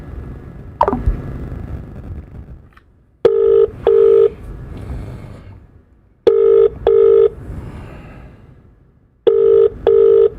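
Bursts of telephone keypad dialing tones, several quick beeps in three separated groups, each group followed by quieter line noise and a faint low rumble, loud and close with no talk.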